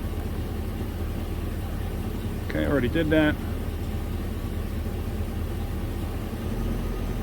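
A Chevy 3500 engine idles with a steady, low rumble throughout, while someone briefly speaks over it partway through.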